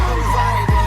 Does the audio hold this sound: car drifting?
yes